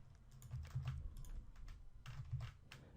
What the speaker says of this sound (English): we're going to type the address of our website there